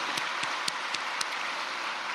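Audience applause at a church gathering welcoming a pastor just released and arrived by plane, a steady wash of clapping with a few sharper claps standing out, moderately distant and without speech.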